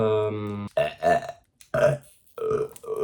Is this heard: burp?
yes